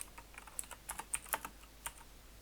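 Light, irregular keystrokes on a computer keyboard, a few soft clicks and taps close by in a quiet room, with short pauses between bursts and no talking.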